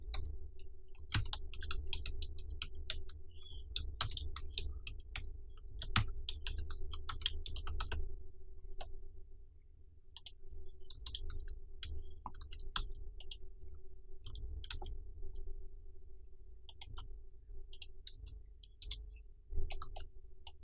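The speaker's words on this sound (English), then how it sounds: "Over here let's type another text." Computer keyboard typing while entering text in After Effects, a long run of quick, irregular key clicks with brief pauses, fairly close and quiet over a low steady hum, no voices.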